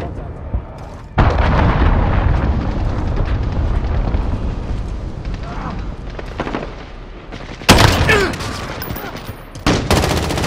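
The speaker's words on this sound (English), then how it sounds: "Allied cruise missile away." A cruise missile strike in Call of Duty erupts in a loud, sustained rumble of explosions and gunfire, with two sharper blasts near the end.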